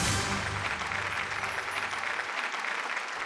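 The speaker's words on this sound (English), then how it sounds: "Give her a round of applause." Audience applause at an insurance awareness quiz competition, a dense, steady wash of many hands clapping that holds loud for the whole stretch, with a low voice briefly audible under it at the start.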